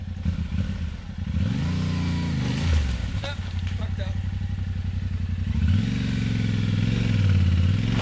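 A motorcycle engine revs and lugs nearby on a moto camping trip, rising and falling in pitch with a rough, pulsing idle between revs. Voices can be heard talking over it.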